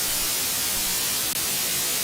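A can of bug spray hisses in one continuous, fairly loud burst close by, with a brief click partway through and no voices.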